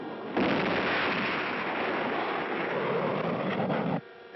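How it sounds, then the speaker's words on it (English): A cartoon rocket's second stage roars to life after stage separation in a 1959 animated space adventure: a sudden, loud, sustained blast of broadband rushing noise that holds steady for about three and a half seconds, then cuts off abruptly. "The mighty blast of the second stage drives the rocket higher and faster."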